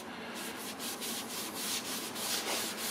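A sponge rubbed back and forth over the top of a chippy wooden coffee table, a steady, close scrubbing swish with rhythmic strokes and no talk.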